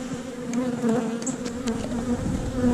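Honey bees buzzing on a hive frame during a hive inspection, a steady close drone with individual bees flying past the microphone.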